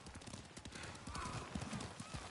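Horses' hooves clip-clopping in the video game Ghost of Tsushima, a quick rhythmic run of faint hoofbeats heard throughout, with soft murmured voices underneath.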